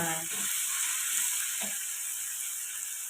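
Athalakkai (small bitter gourd) frying in a generous amount of oil in a pan, a steady close sizzle throughout with a couple of brief stirring scrapes near the start.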